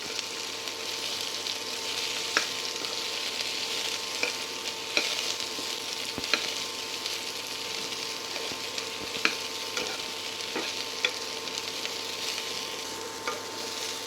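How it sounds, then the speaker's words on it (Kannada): Chopped winged beans sauté in a pan with a steady close sizzle, punctuated by scattered scraping clicks of stirring, and no talking. "ಐದರಿಂದ 10 ನಿಮಿಷ ಚೆನ್ನಾಗಿ ಬಾಡಿಸಿಕೊಳ್ಳೋಣ."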